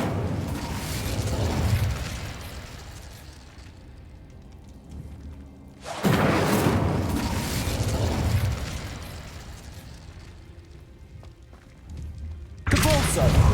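Incendio fire spell going off in Hogwarts Legacy, a few loud whooshing bursts of flame separated by quieter stretches, with a voice speaking between them.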